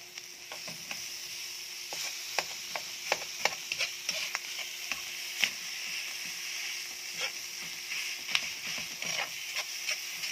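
Ground meat sizzles in a pan with onions, cooked for a ginisang pechay with chicharon, while a spatula stirs and scrapes it in quick irregular strokes over a steady frying hiss.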